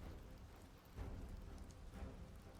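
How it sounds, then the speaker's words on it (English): Steady, faint rain hisses softly and continuously, with no voices over it. "The rain's kind of messing with me."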